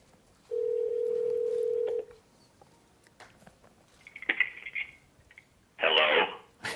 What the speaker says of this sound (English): I can just dial right here, and it's going to dial.